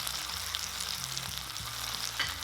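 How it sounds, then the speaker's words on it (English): Teriyaki steak pan-fries in butter with garlic, rosemary and thyme, a steady close crackling sizzle with small pops throughout. "And we're gonna pan fry for another 5 minutes."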